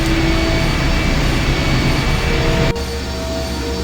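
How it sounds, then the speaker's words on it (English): A machine engine in the video game I Have No Mouth, and I Must Scream starts up as a loud, steady, dense roar with a deep low rumble, cutting to a slightly quieter drone near the end. "The engine's starting up again."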